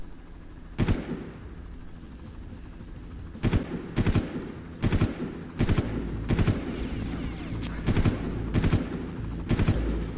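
Gunfire from the first-person shooter game Far Cry comes in sharp, loud bursts: a single shot, then repeated short volleys and rapid strings of shots spaced over about ten seconds against a low background hum.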